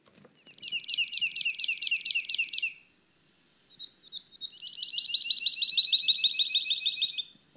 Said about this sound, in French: on peut rajouter par exemple des bruits d'oiseaux